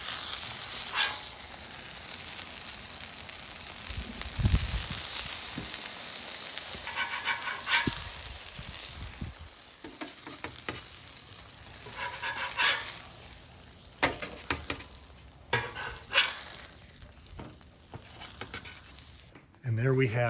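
Double ostrich smash burger patties sizzle on a Blackstone griddle in a continuous hissing fry, with occasional scrapes and taps and intermittent voices talking over the cooking.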